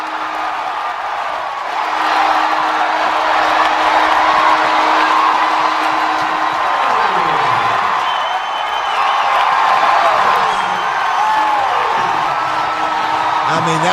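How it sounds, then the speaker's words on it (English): A large baseball stadium crowd roars and cheers continuously after a walk-off winner, with swelling waves of noise and a voice talking over it. "Listen to that crowd."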